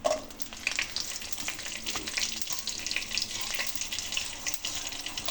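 Garlic fries in hot oil with fenugreek, cumin and mustard seeds, making a dense, continuous crackling sizzle that stays close and fairly loud, with light spattering pops throughout.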